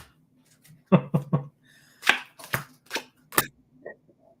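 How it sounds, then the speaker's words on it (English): A deck of tarot cards is shuffled close by, giving a few separate papery slaps and riffles, some in quick groups of three, against otherwise quiet surroundings. "Sometimes cards flip out of the deck as I'm shuffling"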